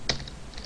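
A computer keyboard gives a short burst of a few keystroke clicks while Java code is typed, close and fairly quiet, with no talking.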